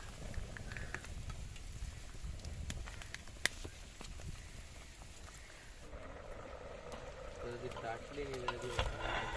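Oyster curry simmers at a boil in a pan, with a steady soft bubbling and sizzling hiss throughout that grows a little busier toward the end.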